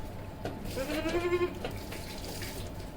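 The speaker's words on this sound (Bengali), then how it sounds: "এই যে দেখেন কীভাবে আমি গোসল করাই" A goat is bathed in water mixed with anti-tick and lice medicine, with running water splashing steadily under a brief bleat-like call near the middle.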